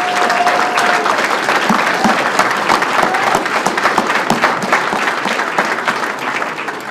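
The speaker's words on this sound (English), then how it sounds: "give the gentlemen in the P.E.A.C.E unit a round of applause" An audience at a celebration for the P.E.A.C.E. unit bursts into sustained, dense applause, loud and steady for the whole stretch, with faint crowd murmur mixed into the clapping.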